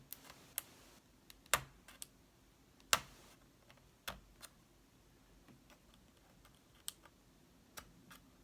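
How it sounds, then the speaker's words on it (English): An X-Acto knife shaves thin slivers of plastic off a misshapen third-party battery for a white MacBook A1181, giving faint, sparse, sharp clicks and ticks at irregular intervals in a quiet room. "X-Acto knife and just cut like a sliver along each side."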